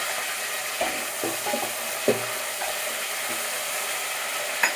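Onion, mint and green chillies sauté in a pan for mutton kulambu, giving a steady soft hiss broken by a few sharp stirring clicks and scrapes, with no voices.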